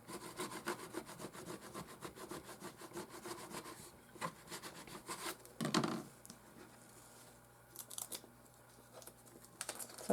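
Transfer tape being rubbed firmly down onto paper by hand, close and quiet, with repeated scratchy back-and-forth strokes in irregular bursts and short pauses, no talking.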